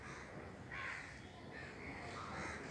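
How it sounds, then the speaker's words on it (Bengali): Several crows caw from nearby in repeated harsh bursts over steady outdoor background noise. "এই দেখো এদিকে সব কাকেরা, দেখো"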